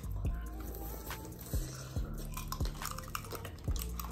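Crunchy candied strawberry being bitten and chewed up close, with repeated wet crunches and squishy chewing in an uneven rhythm, a faint background tone throughout.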